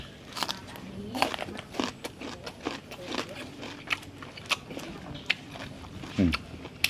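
Crispy fried tofu being bitten and chewed up close, a series of short crunchy bites and crackles in uneven rhythm with faint background noise, a brief louder crunch near the end.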